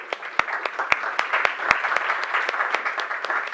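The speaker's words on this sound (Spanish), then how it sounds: "Un aplauso para ellos." Conference audience applauding: a steady crowd of clapping with several sharp, distinct claps from nearby hands standing out at a brisk irregular rhythm.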